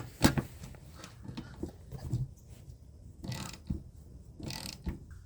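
A ratchet works a half-inch nut loose from the wiper arm of a 2014 GMC Acadia, giving several short bursts of close clicking separated by brief pauses and light handling noises.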